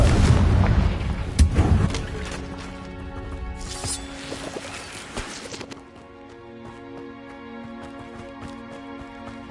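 Confringo fire spell explosion in the Hogwarts Legacy video game, a heavy booming blast with crackling bursts, trailing into a fading rumble under a soft lingering tone.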